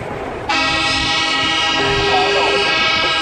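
A loud, sustained blast of a deep truck air horn starts abruptly and keeps blaring, its pitch shifting slightly, close and dominant, during a charity truck convoy in Victoria, Australia.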